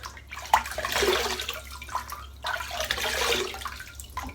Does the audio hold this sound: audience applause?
no